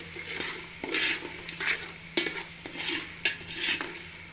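Garlic cloves being stirred into chicken karela in a pan, with a steady sizzle and spatula scrapes and clinks against the pan recurring roughly every half second.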